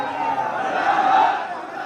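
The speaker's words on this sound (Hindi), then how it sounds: "तो बांग्लादेश के खिलाफ यहाँ पर नारे लगाए जा रहे हैं" Protest crowd chanting slogans against Bangladesh, a dense mass of voices in a steady roar with no single voice standing out, brief and continuous.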